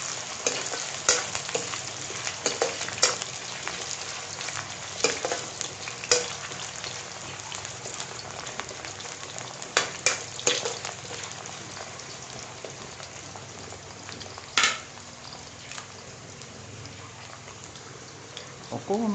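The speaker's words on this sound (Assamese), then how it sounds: "প্ৰথমে আলুখিনি অলপ হাফ ফ্ৰাই কৰিব দিব" Potatoes half-fry in hot oil in a pan for a chicken dish, a continuous close sizzle broken by scraping stirs, while a person talks over it.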